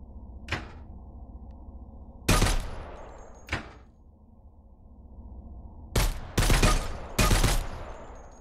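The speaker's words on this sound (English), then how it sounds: "Start shooting." Weapons fire in the VR shooter game Dead Groundz as a series of sharp separate shots, single ones at first and then a quick cluster of three or four, over a low steady background hum.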